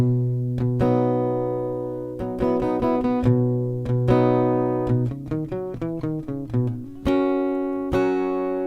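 Acoustic guitar with a capo picking bright single notes and strummed chords in a loose, rhythmic pattern, clear and close, with no talking.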